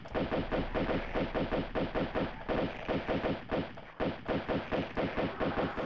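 Lara's pistols firing in Tomb Raider II, a rapid, regular stream of sharp gunshots, about five per second, with one brief pause, loud and close.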